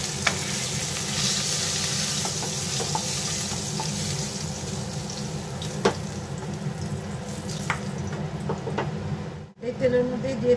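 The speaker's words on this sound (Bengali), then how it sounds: "এই তেলের মধ্যেই দিয়ে দিলাম 1/2 চামচ কালো জিরে, একটা তেজপাতা," Nigella seeds and a bay leaf dropped into hot oil left from frying hilsa fish, giving a steady close sizzle with a few sharp clicks of utensils against the pan.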